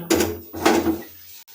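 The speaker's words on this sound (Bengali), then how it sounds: "সম্পূর্ণভাবে আমাদের শাক আলু কচু আর মূলো সেদ্ধ হয়ে গেছে তাকে আমরা অন্য এই কড়া সমেত অন্য একটা জায়গায় রেখে দিচ্ছি" A metal wok (kadai) of boiled greens, potato, taro and radish is lifted off a kitchen stove and set down elsewhere, making two close, short clunks of metal on a hard surface about half a second apart.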